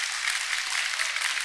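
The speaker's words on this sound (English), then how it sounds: "And applause from everyone." Crowd applause after a women's hockey game between Canada and the USA in Austin, Texas: a steady, soft wash of distant clapping with no voices.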